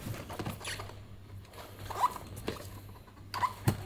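A STAHLWERK ST315 shielding gas pressure regulator being unpacked, with soft rustling of packaging and a few faint taps and scrapes close by, no speech.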